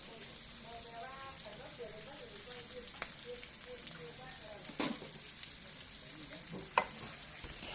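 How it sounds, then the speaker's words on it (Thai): Minced duck meat for larb being stir-fried, a steady low sizzle with scraping and stirring clatter from the pan and occasional sharp knocks, while a voice talks over it. "สร็จแล้วเราก็จะเอาเนื้อมาผัดนะคะ"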